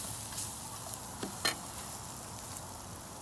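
Beef stir-frying in soy sauce in a hot pan, a continuous close hissing sizzle with a few brief scrapes and clinks of stirring, moderately loud and unbroken, no talking.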